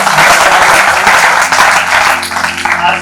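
A seminar audience gives a speaker loud, sustained applause, with dense, even clapping filling all three seconds.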